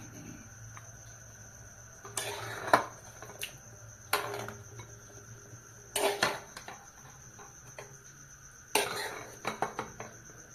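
Bengali-style chicken kosha is poured into a serving dish, with a few scattered clinks and scrapes of a utensil against the pot and dish over a quiet, steady background hum.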